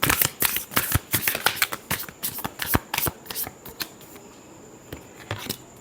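Tarot cards being shuffled by hand, close and crisp, with repeated riffling bursts and snapping flicks in an uneven rhythm, no talking.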